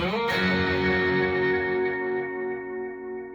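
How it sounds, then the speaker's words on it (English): A single guitar chord sustains and slowly fades through a gritty, slightly distorted analog delay, the repeats blurring into a warm wash. "This is just kind of a analog delay with some grit."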